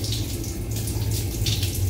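Water running steadily from a newly installed shower heater, a close, constant splashing hiss with no pauses.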